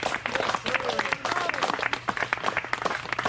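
Party guests applaud, a brisk crowd of hands clapping steadily and fairly close, with voices talking and calling out over the applause.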